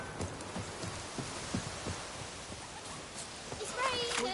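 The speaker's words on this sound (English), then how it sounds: "It's raining, pouring" Steady rain pours in a video game, a dense hiss with scattered drops and soft thuds, with a faint chime rising near the end.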